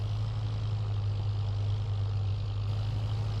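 A tractor engine in Farming Simulator 22 drives across country, giving a loud, constant low drone with a strong steady hum and no change in pitch, close and alone throughout.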